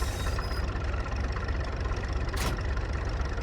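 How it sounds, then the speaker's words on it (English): A red tractor engine in Farming Simulator 19 idles with a steady low rumble, continuous and even, with a short burst of hiss partway through and no talking. "It's a red tractor that started."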